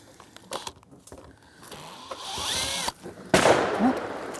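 A flat tip screwdriver works screws out of the top frames of a vintage trailer, giving scattered scraping, clicking and grinding noises close by, with a louder rasping burst near the end.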